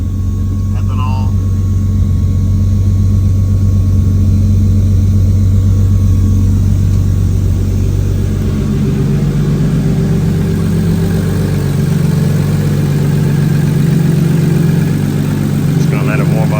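Pro drift car engine idling while warming up, a loud, steady low rumble that continues unbroken throughout with talk over it.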